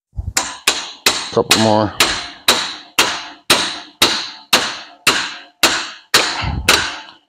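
Steady gentle hammer taps on a generator shaft held in a vise during a homemade permanent magnet alternator build, about a dozen evenly spaced sharp metallic knocks, close and loud, with a brief spoken remark partway through.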